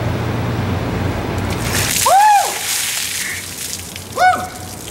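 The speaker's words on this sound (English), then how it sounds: "now I'm going to get a uh, bucket of ice water poured on top" Bucket of ice water dumped over a person outdoors for the ALS Ice Bucket Challenge, a brief splashing rush followed by loud whooping shouts and a second yell, with background noise throughout.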